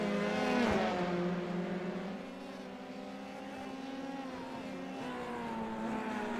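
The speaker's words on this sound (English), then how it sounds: "These Formula 3 drivers pushing very, very hard on the ragged edge of traction." Formula 3 race cars at full effort on the Long Beach street circuit, several engines howling and shifting pitch as they pass and accelerate, a steady loud wall of racing noise with one car swelling closer early on.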